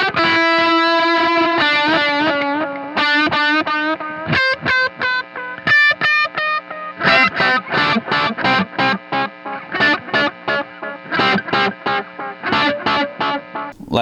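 An electric guitar played through a delay pedal rings out in sustained notes and then a run of rhythmic repeated stabs. The echoes trail each note, and the effect is loud and up close with no speech.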